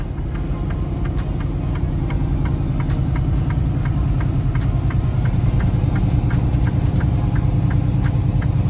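A truck cab heading down a mountain road fills with a steady, loud engine drone and a low rumble, while a fast, even ticking runs throughout and nobody speaks.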